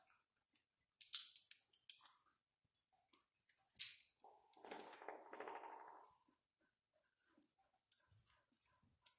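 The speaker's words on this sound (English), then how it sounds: "So I'm going to do just a basic guillotine cut." A guillotine cutter snips a cigar: a few quiet sharp clicks and snaps, then a brief soft rasping cut, followed by faint scattered ticks in an otherwise silent room.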